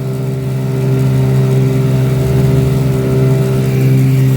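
Bass boat outboard motor running hard and plowing with no weight up front, a loud steady droning hum with a strong low tone, building slightly in intensity and heard alone.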